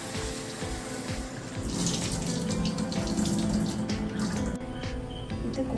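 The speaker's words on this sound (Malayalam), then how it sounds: "വറുത്ത് വെച്ച പരിപ്പ് നമുക്ക് കഴുകിയെടുക്കാം." Roasted green gram lentils are rinsed under a running kitchen tap: a steady, close, hissing gush of water with faint splashing, no voices.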